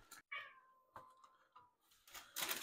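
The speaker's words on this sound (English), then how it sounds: "there's the cat giving her contribution on the entire affair." A cat meows a few times nearby in a kitchen while an apple rose tart is made, a drawn-out falling meow followed by shorter ones, with light clatter and a brief rustle at the end.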